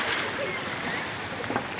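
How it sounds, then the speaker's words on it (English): Floodwater of the Narayani River at Shivaghat, Chitwan, makes a steady broadband rush. A fan whirs along with it, and faint crowd sounds sit underneath. "listen to the fan and soothing sound of the water"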